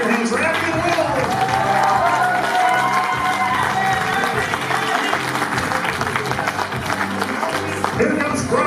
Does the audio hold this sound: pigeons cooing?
no